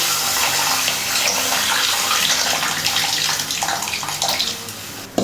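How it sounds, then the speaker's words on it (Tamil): Strained tamarind water is poured steadily into a pan of kara kulambu, a spicy Tamil curry, producing a continuous close splashing pour with no talking. "இதில் நம்ம புளி கரைச்சலை சேர்த்துக்கலாம்"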